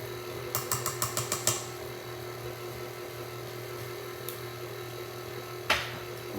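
Stand mixer with a paddle beating chocolate chip cookie dough after eggs go in, a faint steady motor hum under a quick run of light clicking taps, with a couple of soft knocks later.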